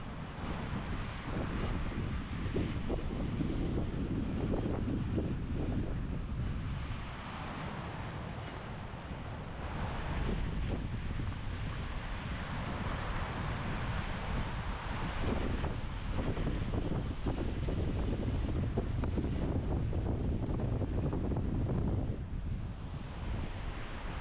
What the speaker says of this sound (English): We got big waves crashing out here, a lot of wind